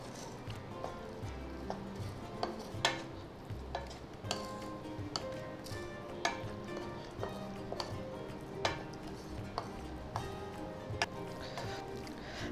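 A spoon keeps stirring a motichoor ladoo mixture cooking in a pan, making repeated scraping clicks and taps in an irregular rhythm over a soft, low sizzle, and no one speaks.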